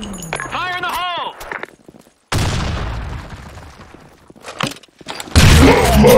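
Grenade blast in the Blackshot shooter: a sharp, loud boom erupts mid-clip and decays into rumbling debris, following earlier metallic clicks and a tonal game effect, with another heavy burst of gunfire-like noise at the end.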